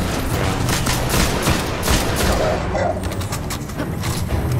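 Rapid bursts of Golden Gun fire and explosions in Destiny, a dense, loud barrage of overlapping shots and blasts throughout.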